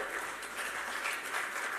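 Applause from an audience at a conference on lifelong learning and the future of work, a steady, dense wash of clapping that holds for the whole short stretch at moderate level.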